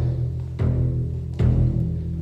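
Two deep, booming strikes on a calf skin frame drum, evenly spaced and close, each with a resonant low tail; no talking.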